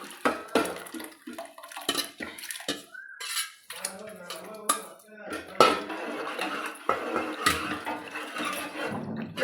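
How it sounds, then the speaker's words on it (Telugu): A spoon scraping and clinking inside a pot as fermented flour batter for ambali is mixed, with steady irregular knocks and stirring close by, a voice talking over parts of it. "ఇట్లా కలుపుకొని పిండి నిన్న పులియబెట్టిన పిండి ఈ వేసుకోవాలి"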